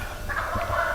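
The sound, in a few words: turkey gobbling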